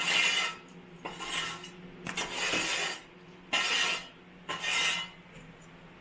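A DJI Osmo Pocket tripod mount being unscrewed, heard as five or six rasping, scraping twists in bursts of about half a second to a second, each separated by short pauses, close and fairly loud with no talking.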